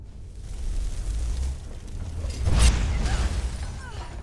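Ice explosion from a spell in the video game Skyrim: a rumbling burst builds, then a sharp shattering crack peaks midway, followed by scattered crackling debris and tinkling fragments fading out, with no talking.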